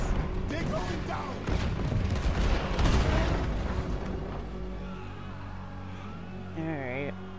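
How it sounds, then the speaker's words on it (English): Gunfire in Red Dead Redemption 2, a burst of sharp shots and booms clustered in the first few seconds, fading into lingering rumble, with a voice speaking briefly near the end. "There was quite some shooting, boys."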